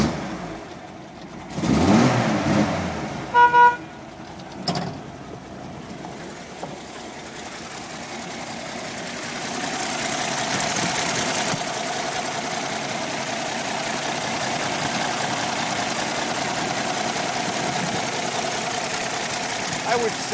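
A 1975 Toyota FJ40 Land Cruiser engine with original miles cranks with a few bursts, then catches and settles into a steady, rough idle, while someone speaks briefly near the start.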